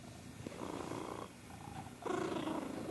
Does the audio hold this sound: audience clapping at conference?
no